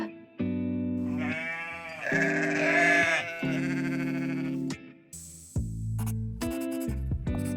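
Sheep bleat in a farm animal sound sequence, several long wavering cries in a row, loud and close, with a few shorter sounds at the end.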